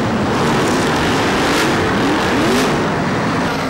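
BriSCA F1 stock cars race past on an oval track at Mildenhall, a loud continuous engine roar with rising and falling revs as the cars pass close by.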